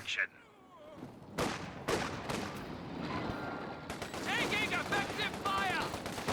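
Machine gun bursts and other gunfire in a Company of Heroes 2 multiplayer battle, rattling in repeated volleys amid explosions, with a caster talking over the action.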